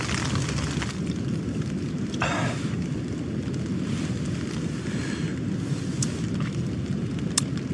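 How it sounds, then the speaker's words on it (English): A steady, dense roar of heavy storm rain fills the whole clip, constant and loud with no voices, broken only by a few faint knocks. "It's just really started coming down heavy now with rain."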